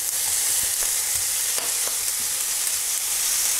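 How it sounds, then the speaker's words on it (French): Bacon lardons frying hard in their own rendered fat, a loud dense sizzle that crackles continuously at close range, broken by a few quick stirring scrapes. "je vais mettre les lardons après à griller"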